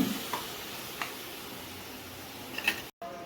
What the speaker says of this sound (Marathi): आता याच्यामध्ये आपण टोमॅटो आणि आलं लसूणची प्युरी टाकूया आणि चांगली मिक्स करून तिला झाकून 2 मिनिटं तेल सुटेपर्यंत शिजवून घेऊया आपण